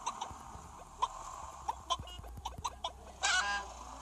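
Chicken clucking in a video game: a series of short, sharp clucks and squawks at an irregular rhythm, fairly faint, ending in a brief louder squawk, with no talk.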